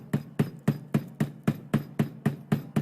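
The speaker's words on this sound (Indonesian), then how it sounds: "Yang penting kita melakukan pemukulan secara konsisten." About ten sharp hammer blows on a table, evenly spaced in a quick steady rhythm, close and fairly loud, with no voices.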